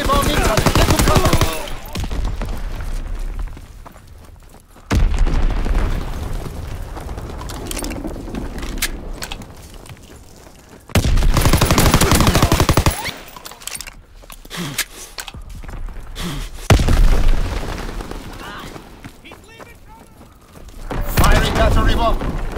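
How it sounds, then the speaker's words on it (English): Repeated bursts of gunfire and booming bomb blasts from a Call of Duty WWII battle, loud and dense, coming in several heavy waves with quieter stretches between them and scattered voices under the din. "Enemy bomb incoming."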